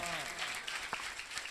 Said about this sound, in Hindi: खुदा के कलाम का जोर से ताली बजा के स्वागत करेंगे।